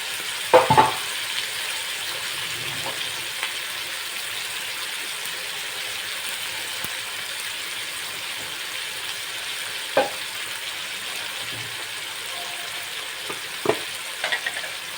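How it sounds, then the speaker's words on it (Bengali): Prawns frying in hot oil in a pan give a steady, close sizzle throughout, with a few brief clinks and stirring knocks scattered over it; no one speaks. "চিংড়ি মাছগুলো আমি এতে দিয়ে দিলাম।"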